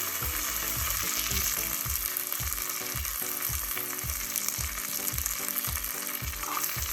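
Curry leaves and asafoetida sizzle in hot oil for a tempering, a loud, dense, crackling spatter that runs steadily throughout with no talk.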